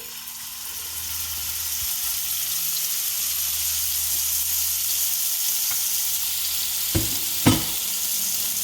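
A loud, steady sizzle of steak searing in hot oil near its smoke point fills the clip, with a couple of brief clinks near the end and no voices.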